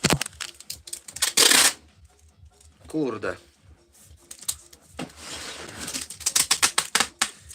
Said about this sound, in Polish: Chwila, taśmowanie.